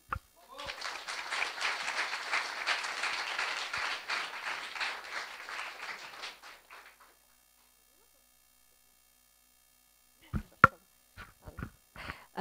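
A seated audience applauds to welcome a speaker to the stage, a dense burst of clapping lasting about six seconds before fading into silence, followed by a few isolated knocks or handling sounds.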